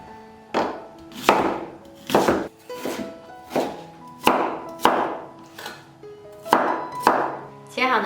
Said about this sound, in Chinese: 再把梨切成小块。